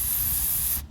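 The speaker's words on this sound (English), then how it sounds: "we're gonna spray it out one last time with the carburetor cleaner" A continuous hiss of carburetor cleaner sprayed from an aerosol can into the carburetor of an MTD snowblower, one steady close burst lasting most of a second before cutting off abruptly.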